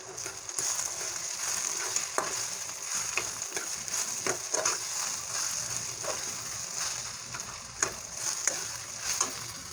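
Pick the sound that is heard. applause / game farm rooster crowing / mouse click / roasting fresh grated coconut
roasting fresh grated coconut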